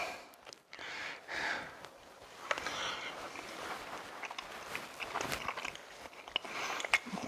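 Someone chews a bite of homemade jalapeno-cheddar sausage, with moist, crunchy mastication and a few sniffs, close and fairly quiet, lasting several seconds with no talking.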